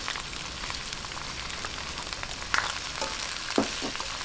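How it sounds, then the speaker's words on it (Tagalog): Chopped onion and tomato sautéing in a pan for menudo, a soft continuous sizzle with light crackles and a couple of faint utensil clicks, no talking. "Hayaan lang po nating magisang-gisa yung kamatis hanggang sa lumambot."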